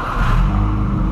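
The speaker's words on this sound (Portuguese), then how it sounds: "acabamos de colocar o escape esportivo no G6 e ele vai testar" A Volkswagen Gol G6 fitted with a freshly installed sports exhaust, its engine catching and running with a loud, deep rumble that swells briefly near the start and holds steady, close to the microphone with no talk.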